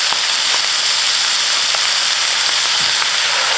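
Stock hits a hot pan of broccoli rabe and potatoes, producing a loud, continuous broadband sizzle and hiss with steady crackling throughout, close and without talking.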